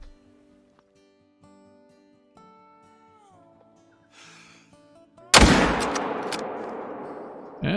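A single loud rifle shot at a red deer stag in the hunting game Call of the Wild, cracking out after a quiet stretch of soft in-game music and ambience, then a long echoing decay.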